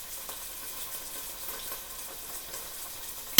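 Chicken curry frying in a pan on a home cooker, a soft continuous sizzle with scattered small spits and pops, ending in a sharp louder crackle.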